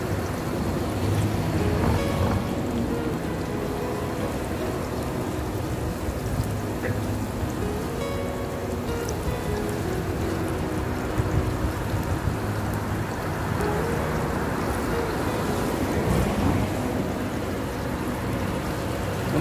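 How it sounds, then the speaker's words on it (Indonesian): Pork meat and bones fry in very hot oil outdoors in front of a house, giving a loud, steady, dense sizzle that runs unbroken throughout without pauses. "Ini aku menggoreng daging babi dan beserta tulangnya ya."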